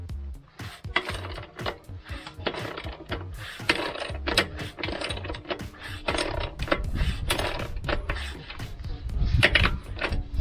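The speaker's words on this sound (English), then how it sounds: "Be careful not to round the nut. It is loosening." A nut on the rear mudguard of a Triumph Tiger 900 GT Pro motorcycle is loosened with a tool, giving a run of close, irregular metallic clicks and rattles.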